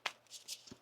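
Tarot cards being shuffled by hand, with one quick riffle at the start and a few softer papery flicks and taps after it, heard close and faint with no talk.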